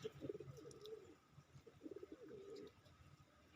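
Several pigeons coo nearby in soft, repeated throaty rolls, faint and close, with a few light chirps and no talking.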